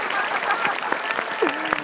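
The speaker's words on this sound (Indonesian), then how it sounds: "boleh tepuk tangan lagi" Audience applause at a word-search quiz game show: dense, steady clapping from a crowd filling about two seconds, with a host's voice briefly over it.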